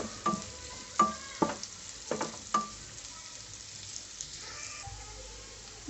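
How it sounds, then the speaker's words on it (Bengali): Onion fries lightly in a little oil alongside green chili, cinnamon, cardamom and bay leaves, a soft low sizzle punctuated by several sharp spatula clinks and scrapes, fairly quiet and close. "পেঁয়াজটা একটু হালকা তেলে নেব"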